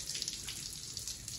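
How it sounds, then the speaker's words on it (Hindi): Water leaking out through the sides of a home aquarium, a soft, steady trickling hiss that stays fairly quiet and continuous, with no voices. "साइडों से पानी लीक हो चुका है"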